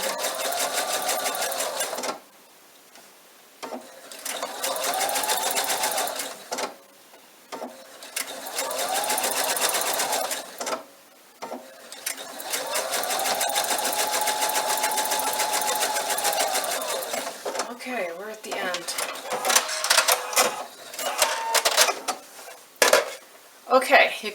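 A sewing machine runs in several bursts of rapid whirring stitching as it sews around the curves of a fabric bunny bag, with short pauses between runs and some clinks and handling noises near the end.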